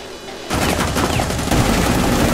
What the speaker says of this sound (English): Is that him shooting?